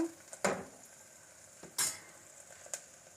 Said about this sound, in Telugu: ఇప్పుడు ఈ కస్తూరి మేతి కూడా వేసి ఒక్కసారి ఇలాగా కలియపెట్టినట్టు చేద్దాము